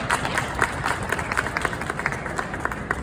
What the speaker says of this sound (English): Can we give another round of applause for our speaker?